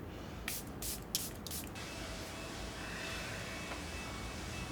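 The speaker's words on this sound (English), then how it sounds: "going in with another spritz of the Charlotte Tilbury, and a generous one too" Setting spray spritzed from a Charlotte Tilbury bottle: a few quick, close pumped hisses near the start, then a soft steady room hiss with no talking.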